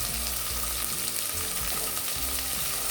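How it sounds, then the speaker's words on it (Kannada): Chopped tomato frying in hot oil in a pan for a lentil saaru gives a loud, continuous crackling sizzle that holds steady throughout, with no talk. "ಟೊಮೆಟೊ ಎಣ್ಣೆಯಲ್ಲಿ ಸೂಪರಾಗಿ ಸಾಫ್ಟ್ ಆಗೋವರೆಗೆ ಫ್ರೈ ಮಾಡ್ಕೊಳ್ಳಿ"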